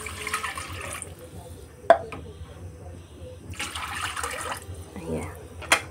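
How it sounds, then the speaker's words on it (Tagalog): Water pours into a cooking pot on a home stove while dinner is prepared, a steady close splashing stream with brief clanks, as someone talks over it. "Ilagay na natin ang ating tubig."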